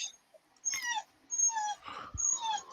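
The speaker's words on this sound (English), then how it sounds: "Why are you whining, dog?" A dog whines indoors in a quiet room, giving several soft, high, wavering whimpers in short bursts with brief pauses between them.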